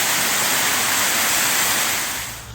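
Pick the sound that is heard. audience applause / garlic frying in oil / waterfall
waterfall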